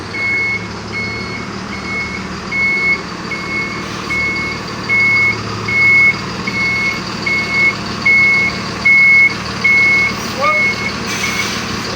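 A new Avanti H7 bus maneuvers at a bus terminal, its reversing alarm beeping in a steady, regular series over a low idling engine, with people talking nearby.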